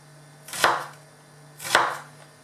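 Two crisp knife chops on a cutting board, about a second apart, cutting food into julienne strips for a dish with forest mushrooms and chicken. The chops are close and clear in a quiet room.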